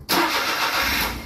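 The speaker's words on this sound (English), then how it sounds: "Main thing is, will it start the car?" A 2012 Smart car's engine cranks and catches, a sudden burst that settles straight into a steady close idle hum lasting about a second.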